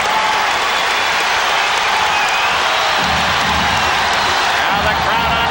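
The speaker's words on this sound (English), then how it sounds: "Now the crowd on its feet." A basketball arena crowd at a 1991 Lakers versus Trail Blazers playoff game roars and cheers on its feet, a loud, sustained wall of noise with applause, under an announcer's voice.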